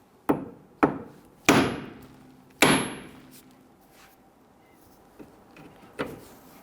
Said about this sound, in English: You're going to go ahead and strike the knuckle. That should separate the tie rod end.